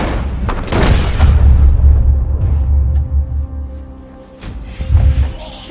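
A gunshot booms in Red Dead Redemption 2, one loud, close blast with a long rumbling low tail, followed later by a second smaller thump.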